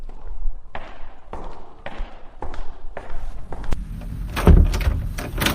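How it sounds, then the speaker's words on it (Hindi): Repeated pounding on a door early in the morning, a series of loud knocks in an irregular rhythm up close, followed by a louder burst of banging and rattling near the end. "इतनी सुबह दरवाजा क्यों पीट रहे थे"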